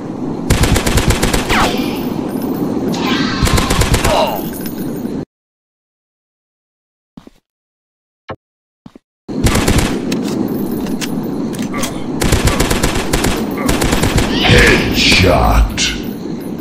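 Rapid bursts of close, loud gunfire from a dinosaur hunting video game, two long volleys split by a near-silent gap with a few faint clicks, with a voice speaking alongside the shots.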